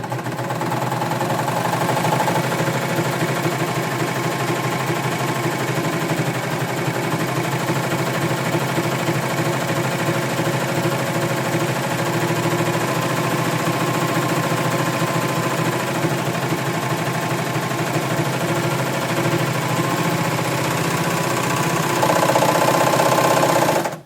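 A serger sews a rolled hem along the edge of knit fabric, its motor humming in a steady, continuous whir that runs unbroken throughout, close and moderately loud, with no one speaking.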